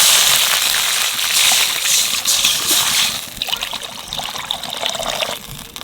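Two cups of water poured steadily into a pan over curry leaves and chopped green chillies, a loud continuous splashing trickle that stays close and unbroken throughout.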